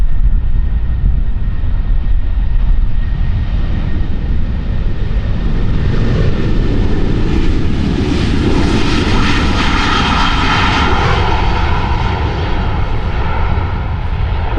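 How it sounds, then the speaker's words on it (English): Boeing 737 jet engines, both the MAX and an older model, spool up for takeoff on runway 36L at Amsterdam Schiphol, a loud continuous roar that builds and swells throughout with no talking. "Now listen to the difference between the the MAX and the older"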